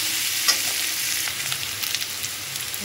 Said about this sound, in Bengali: এবার ভালো করে সবজিগুলো ভেজে নেব।